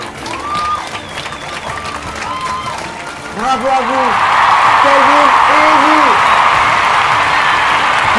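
Studio audience on a French game show breaks into applause after a host congratulates winning contestants, the clapping swelling into a steady wash that continues under the host's voice.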